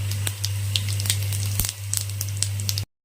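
Bay leaf, garam masala and cumin seeds sizzle and crackle steadily in hot oil in a pan for a Bengali prawn malai curry, with scattered sharp pops over a constant low hum.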